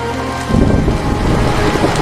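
Heavy rain pouring, a broad steady hiss that swells into a louder, rumbling wash of downpour with low booming undertone suggesting thunder, continuous and fairly loud.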